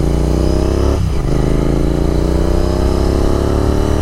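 A Royal Enfield Continental GT 650 fitted with a Red Rooster exhaust is ridden at steady speed, its loud, throaty twin-cylinder drone running continuously close by, with a brief dip in pitch as the throttle eases and picks up again.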